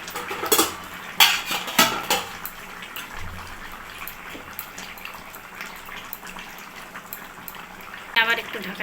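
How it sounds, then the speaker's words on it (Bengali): Fried rohu fish pieces go into a cooking pot with a curry of ash gourd, giving a few sharp clinks and clatters of utensil on pot over a low simmer, then a quieter stretch. "এখন এই ভেজে রাখা মাছগুলোকে আমি এখানে দিয়ে দেবো।"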